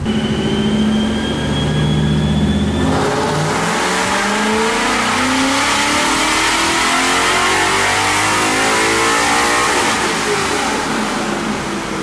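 Coyote V8 swapped into a New Edge Ford Mustang drift car, revving hard on a dyno, the loud engine note climbing steadily to very high RPM and holding there without pause.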